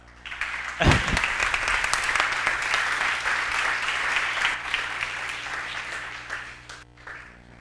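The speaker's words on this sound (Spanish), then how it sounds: "Un fuerte aplauso para Sebastián Lora." Applause from a conference audience greeting the speaker Sebastián Lora, starting with a loud burst then settling into steady, dense clapping that slowly fades.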